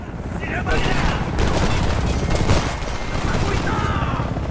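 Rapid bursts of automatic gunfire from the video game Homefront rattle loudly and continuously, mixed with heavier booms and game effects, with voices shouting in the background.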